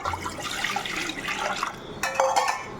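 About half a litre of water is poured from one vessel into a cooking pot for tomato soup, a soft continuous splashing that grows brighter and louder near the end.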